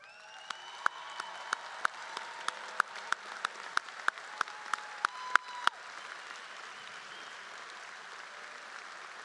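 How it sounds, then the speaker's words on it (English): Audience applause at a 2022 Kirkwood High School graduation ceremony, a sustained wash of clapping from a large crowd, fairly distant, with a steady series of sharp, regular knocks over it for about six seconds before the applause thins and fades. "I would like you to stand for our applause."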